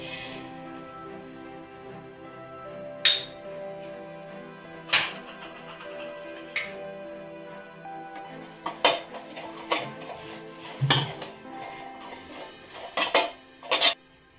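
Rice flour and ajwain dry roasting in a hot pot, with a spoon scraping and knocking against the metal in scattered sharp clinks over a faint steady background, some strikes louder than others.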